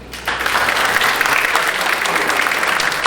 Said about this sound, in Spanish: demos un aplauso a el doctor Arturo Jesús Urbina Nandayapa